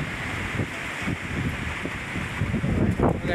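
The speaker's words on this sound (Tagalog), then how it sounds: "Makalakas ang hangin" Strong wind blows at a seaside spot in Malico, San Nicolas, Pangasinan, buffeting the microphone with a steady roar and gusty low rumbles, with surf-like wash underneath, loud and close, with no talking.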